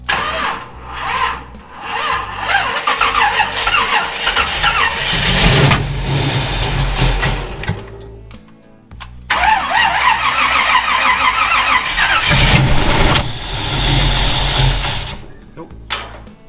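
A rat rod wrecker's engine cranking repeatedly without catching, two long bursts of starter churning separated by a pause, loud and close, with a person speaking briefly at times.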